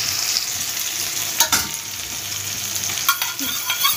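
Capsicum, chilli and garlic fry in white oil in a pan, with a steady close sizzle and a few sharp scraping stirs of a spatula scattered across the clip.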